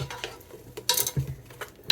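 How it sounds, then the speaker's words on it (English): Peppercorns stirred into a cooking pot with a spoon, a few short scrapes and one brighter clatter of utensil on metal, close and fairly quiet with no talking. "And a little peppercorns. And we are going to stir."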